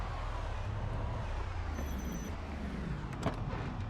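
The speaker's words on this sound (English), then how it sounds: "let me leave the car running though" A car engine idles steadily in a video game, a continuous low rumble filling the whole stretch with no talk over it.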